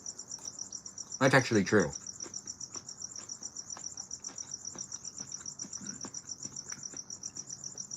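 Crickets chirp steadily outdoors in a fast, high, pulsing trill that continues throughout, while a voice briefly speaks over them near the start.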